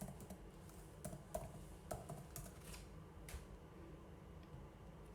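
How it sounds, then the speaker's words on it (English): Rapid, light keystrokes tap on a computer keyboard in irregular bursts, fairly faint against a quiet room background, with no talking. "So I'm gonna type in pilgrims."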